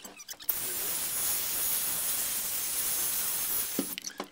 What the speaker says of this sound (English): I'm going to give it a little blast with the hair dryer.